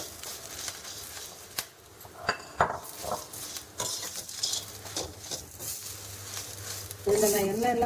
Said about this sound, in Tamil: இதுலேயே கருவேப்பிலை போட்டு கொஞ்சம் லேசாக சூடு பண்ணிக்கலாம்